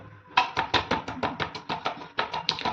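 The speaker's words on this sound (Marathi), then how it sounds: "आता भरपूर असा लसूण ठेचून घ्यायचा" Plenty of garlic being crushed and pounded, a close run of about a dozen quick, regular thuds with crisp impacts, steady and continuous.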